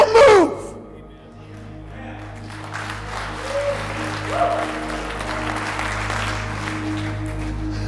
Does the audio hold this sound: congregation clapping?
yes